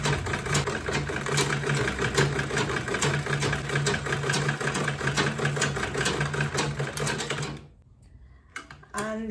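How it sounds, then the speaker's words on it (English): A sewing machine stitches a line through a quilted tote bag, whirring in a fast, steady chatter for several seconds before stopping abruptly, followed by a brief quiet and a few faint handling taps. "I'm going to sew a line of stitch here"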